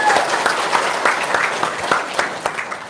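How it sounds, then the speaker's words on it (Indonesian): An audience claps at a religious lecture, a loud and fairly close round of applause with distinct individual claps, tapering slightly toward the end. "Tepuk tangan Bang."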